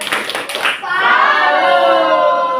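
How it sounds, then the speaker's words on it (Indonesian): Students in a classroom clap for a group of classmates, a short burst of dense hand claps that gives way to a sustained bright wash of sound, with children's voices mixed in. "Oke, kasih tepuk untuk kelompok ini"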